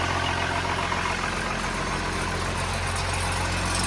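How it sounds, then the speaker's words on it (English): An International DT360 diesel engine idles steadily nearby with a low rhythmic rumble and a faint high turbo whine riding above it, unchanging throughout. "So it runs nice and quiet, turbo spinning, exhaust."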